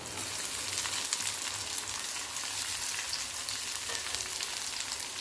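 Chopped medium onion frying in oil with garlic for a tamarind-jaggery amti gives a dense, even sizzle up close, steady and unbroken, without talk.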